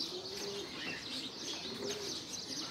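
Pigeons coo softly and repeatedly as a racing pigeon returns to its loft, the low rolling coos mixed with light chirps against a quiet outdoor background.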